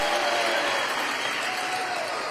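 Steady, dense applause and cheering from a large campaign rally crowd at a Kamala Harris speech in Savannah, Georgia, sustained and full throughout the short stretch.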